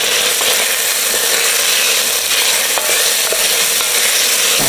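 Onions and carrots cooking down in a pot for beef stew give a loud, dense, continuous sizzle, with a few faint scraping stirs but no voices.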